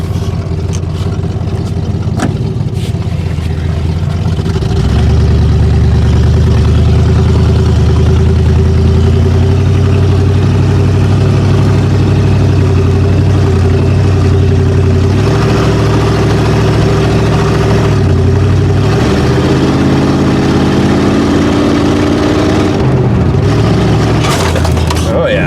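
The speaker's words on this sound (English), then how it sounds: "I can hear it rattling the bumps, rattling the gravel already off of that exhaust." A low-slung Ford Granada drives over gravel, its engine a loud, close rumble that rises and falls with throttle while the exhaust rattles underneath; a voice talks over the engine.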